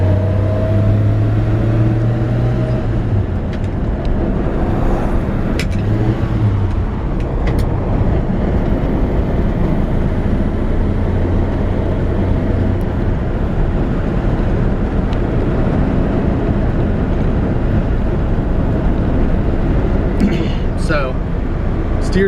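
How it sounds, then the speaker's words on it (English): A 1954 Chevrolet 3100 pickup truck cruising down a road, its engine a steady low rumble with road and wind noise throughout, heard from inside the cab while someone talks. "This is actually one of the better original driving trucks that I've driven."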